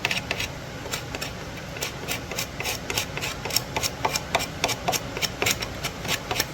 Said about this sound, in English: So I'm going to come back through with the card scraper, and I'm going to scrape all these off.